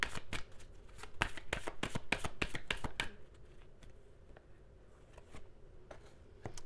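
Tarot cards being shuffled and drawn, first as a quick run of crisp riffling snaps and then as softer, scattered card slides and taps, close and fairly quiet.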